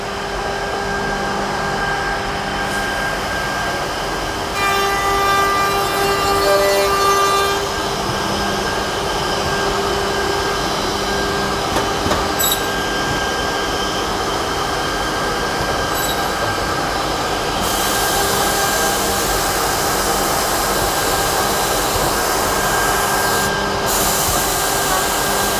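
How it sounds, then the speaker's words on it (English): A Hebrock F5 edgebander runs a second pass with its corner rounding unit fitted, giving a steady, loud, continuous mechanical drone with a high whine and brief rattling surges, and no talking. "I'm now going to put the corner rounding unit on"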